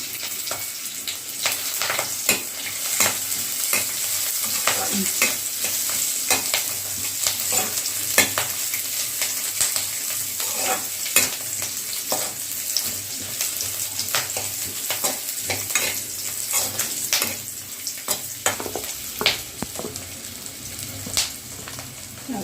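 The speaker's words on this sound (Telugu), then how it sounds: "ఆనియన్ అయిపోయినాక కొబ్బరి వేసుకొని ఫ్రై చేసుకోవాలి" Grated coconut frying with onions in a pan for a restaurant-style mushroom curry: a continuous sizzle cut by frequent scraping stirs of a spoon, close and fairly loud, no speech.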